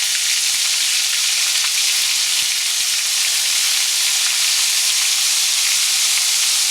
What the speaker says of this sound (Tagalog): At ipiprito na natin to. I-deep fry na natin.